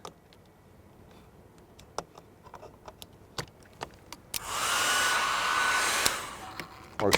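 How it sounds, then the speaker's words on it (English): A few scattered clicks and taps, then a hair dryer powered from a Hyundai IONIQ 5 electric car switches on with a loud, steady rushing whir for about two seconds before cutting off. "First of all, hair dryer."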